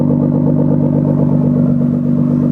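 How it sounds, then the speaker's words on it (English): A steady, loud engine exhaust from a Nissan R35 GT-R idling with a throaty, pulsing burble, close up and continuous throughout. "Let's hear the exhaust."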